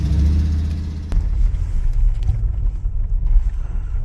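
A vehicle engine rumbles loudly up close, low and uneven, with a slight lift in its running about a second in. It keeps idling roughly after that, and nobody speaks over it.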